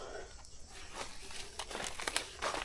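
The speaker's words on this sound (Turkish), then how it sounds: "Bir poşet koyalım." Close, crisp crinkling of a plastic bag used to bag freshly harvested bananas, in short irregular bursts, with a few louder rustles toward the end and no talking.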